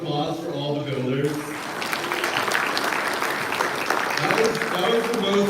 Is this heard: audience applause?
yes